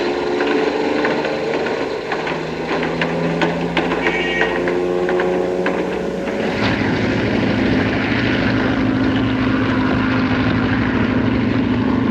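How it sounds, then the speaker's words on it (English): A propeller airplane in a 1940 film scene drones steadily overhead, a loud continuous engine hum that stays constant throughout with no speech. "It's a signal for that plane to land."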